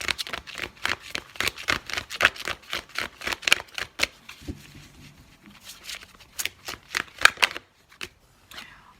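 Tarot cards being shuffled and drawn, a quick series of crisp riffling flicks that pause briefly and then pick up again, close and fairly loud.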